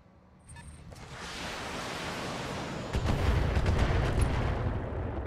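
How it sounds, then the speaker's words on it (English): Missile salvo in the Battletech mech game, a rising roar of launches that swells into a heavy rumble of explosions, loud and continuous, with sharp blasts punching through near the end. "I think only 2 missiles hit"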